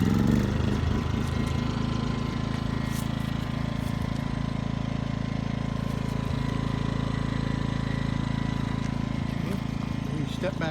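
A portable generator engine runs in a continuous low droning hum at close range, steady from start to finish, with faint voices in the background.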